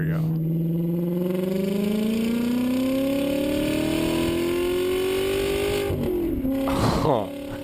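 A car engine revving at full throttle, pitch climbing steadily to high revs over several seconds before dropping back with a brief rev blip at the end, loud and close.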